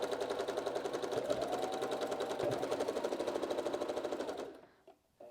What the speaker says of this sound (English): That with my sewing machine, I also go back a few stitches